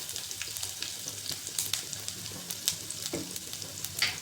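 Mustard seeds, cumin and finely chopped garlic sizzle and crackle in hot oil, a close steady frying hiss with sharp pops and stirring scrapes, no talk.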